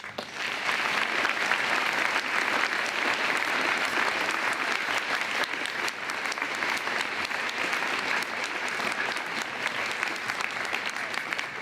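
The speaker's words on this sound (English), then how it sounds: "Let's give a round of applause for our veterans." A gym audience at a high school Veterans Day program gives veterans a round of applause, dense steady clapping from many hands that holds at an even level throughout with no talk on top.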